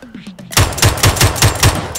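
In a PUBG training ground, loud rapid gunfire fires in a steady rhythm of about eight evenly spaced shots, close and punchy, after brief talk at the start.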